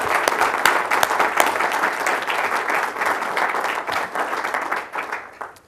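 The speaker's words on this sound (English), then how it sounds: "please can we just all give a round of applause to that whole committee" An audience at an Arlington ISD board of trustees meeting applauds a committee, dense continuous clapping from many hands that holds steady for several seconds and then tapers off.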